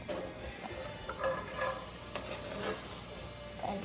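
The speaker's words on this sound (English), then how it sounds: "Here's our onions, our diced onions. We're gonna put them into this pan." Diced onions frying in a pan for chili give a steady, close sizzle with scraping stirs and light clatter on and off, no voices.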